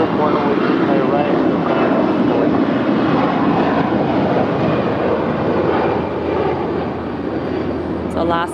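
An Alaska Airlines jet taking off from LAX, bound for Portland, a loud sustained roar of jet engines rumbling close by, with faint radio chatter underneath and a brief clatter at the end.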